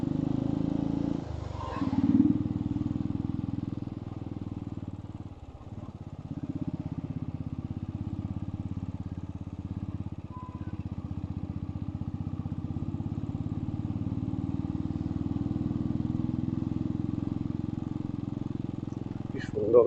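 A motorcycle on a steep mountain road near Darjeeling, engine running in a steady close drone with a brief dip and rattle early on, while a voice talks over it.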